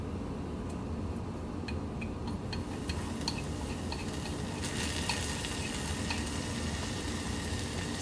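Chopped garlic frying in a pot for kimchi stew gives a steady sizzle and crackle, with light ticking taps of a utensil stirring against the pot.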